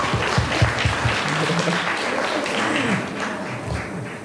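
An audience at a school business department prom claps together in a dense burst that starts strong and gradually thins, with a few louder individual claps near the front.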